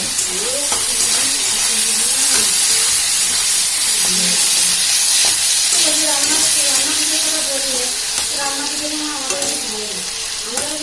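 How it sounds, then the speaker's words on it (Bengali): Meat for soup frying lightly in a pan with a little salt: a loud, dense, steady sizzle and hiss close up, with occasional stirring, while someone talks throughout. "এরকম মাংসটা হালকা হালকা ভাজা হচ্ছে।"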